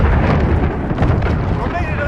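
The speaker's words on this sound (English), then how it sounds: "Allied cruise missile away." A cruise missile strike lands in the Call of Duty Modern Warfare video game, a loud, close, rumbling blast with heavy low-end roar that fills the whole short moment.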